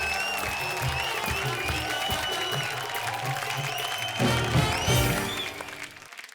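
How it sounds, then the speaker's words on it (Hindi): A studio audience at a televised comedy show claps to welcome actress Parvati Sehgal onto the stage. The applause is moderate and continuous, mixed with tonal background music, and swells louder near the end before fading. "जोरदार तालियों के साथ स्वागत कीजिए प्रतिज्ञा की कोमलिया यानी पार्वती साइगल का"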